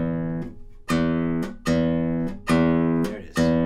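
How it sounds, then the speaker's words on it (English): Classical guitar bass strings plucked with the fingers, giving scratchy nail noise on the attacks: five sustained low notes ring out one after another, close and clear, with no talking. "when we play our bass strings with our fingers in this position, 9 times out of 10, we'll get scratch"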